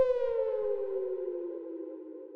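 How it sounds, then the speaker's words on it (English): A sonar-like ping in a K-pop beat sounds as one bright tonal hit that glides slowly downward and rings out for over two seconds on its own, smooth and resonant. "this kind of like sonar ping sound"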